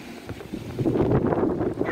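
Gusty wind buffets the microphone outdoors, a steady low rumble rising louder in the second half.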